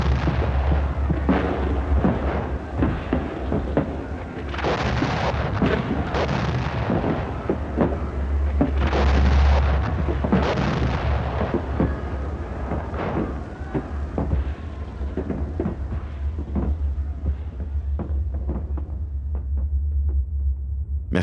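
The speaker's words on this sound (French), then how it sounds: "Et les obus éclatent à 100 mètres de nous." Artillery shells bursting about a hundred metres away in wartime, heard as a continuous rumble of deep thuds and booming blasts with a heavy low-end throb, several louder bursts standing out, no voices.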